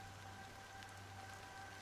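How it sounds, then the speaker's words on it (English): Steady, soft rain hiss in Honkai Star Rail, a continuous even patter with a faint low hum underneath and no voices. "I can't hear you over the rain, old man."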